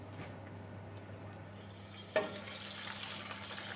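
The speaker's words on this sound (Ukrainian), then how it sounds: "М'ясо у нас почало смажитися і його мішаємо" Steady sizzling of meat frying in a hot pan without water, a soft crackle throughout with a brief clatter partway as it's stirred.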